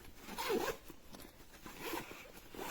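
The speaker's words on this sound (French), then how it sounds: "Les fermetures éclairs sont agréables à utiliser, il n'y a aucun problème" Zipper on a waterproof teenage girl's school backpack, opened and closed in two quiet, close strokes with short rasping pulls and no talking.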